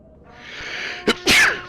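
A single sharp human sneeze bursts out close and loud, preceded by a short breathy catch and a hum of background room tone, with no talking during it.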